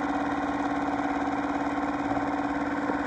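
A rebuilt Yamaha 2.5 hp four-stroke outboard motor running steadily at idle, a close, even mechanical hum with a constant buzzing tone and no voices.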